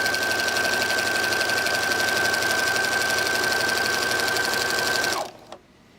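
A sewing machine runs steadily, stitching narrow fabric binding with green thread onto potholders, a continuous close whir with a faint high whine that stops abruptly near the end.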